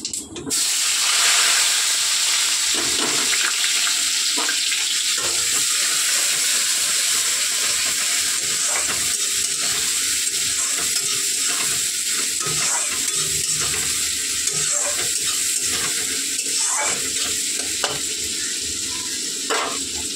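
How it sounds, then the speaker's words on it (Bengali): Onions sizzle and crackle steadily in a hot pan, with occasional stirring scrapes, loud and close throughout. "পেঁয়াজ ভাজা ভাজা হয়ে গেছে"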